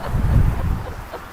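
A gust of wind buffets the camera during an outdoor walk at the Parliament grounds in Wellington, giving a brief, loud low rumble that fades out.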